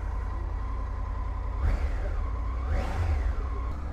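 Brand-new Triumph Tiger 900 Rally Pro three-cylinder motorcycle engine, kept under 6000 rpm while running in, idling with a steady hum and blipped twice in quick rising-and-falling revs, close by with no talk.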